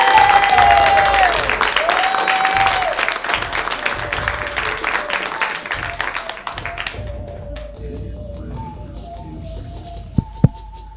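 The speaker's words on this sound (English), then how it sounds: "You guys make some noise for Xavier Jones" A crowd applauds and cheers for a performer at a live rap show, dense clapping and whoops that gradually thin out, followed by a few scattered claps and a sharp tap near the end.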